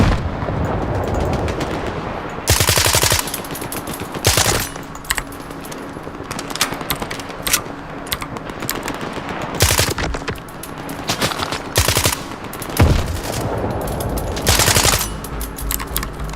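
An SMG fires repeatedly in STALKER 2, loud and close, in short stuttering bursts and longer sprays separated by brief pauses, with faint background rumble between volleys.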